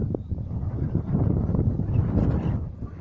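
Steady wind rumbles and gusts against the microphone atop Aydos Hill overlooking Istanbul, a continuous low roar with no talking.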